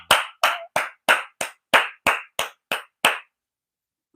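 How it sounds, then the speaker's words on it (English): Ten sharp, evenly spaced hand claps from one person, loud and close, followed by silence and the start of another clap at the end. "Clap it up for Week 16"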